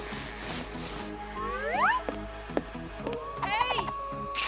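A cat gives a rising meow and then a second wavering meow, fairly close, amid a busy indoor scene with scattered thumps and a voice.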